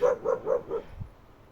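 A dog gives four quick, evenly spaced barks up close, then falls quiet with only faint low rumbling behind.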